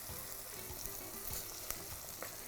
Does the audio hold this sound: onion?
yes